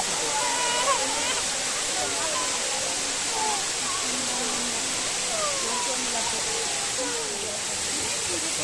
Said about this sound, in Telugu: చాలా పైనుంచి పడుతుంది వాటర్.